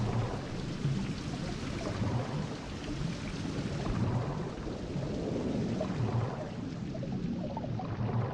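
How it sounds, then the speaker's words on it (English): Steady rain with low rumbling thunder in the 16th-century survival game Survival: Fountain of Youth, a dense continuous wash of rainfall throughout with deep rolls swelling beneath it, no talk. "Oh, now it rains."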